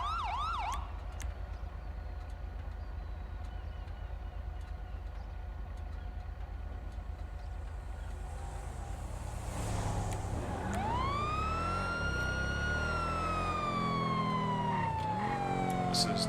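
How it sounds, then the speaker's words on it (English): A police car siren in a video game begins wailing about two-thirds of the way through, rising and falling loudly over a steady low rumble of engine and road noise. "if you need your sirens, you press Alt"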